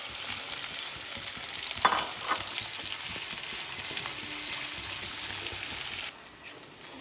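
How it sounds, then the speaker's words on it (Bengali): Four large, thinly sliced onions fry in a pan, crackling and sizzling up close with scraping stirring strokes throughout, then the sound drops to a quieter sizzle near the end. "পেঁয়াজগুলো কিন্তু খুব পাতলা করে কেটেছি, আর খুব ভালো করে কিন্তু ভাজতে হবে"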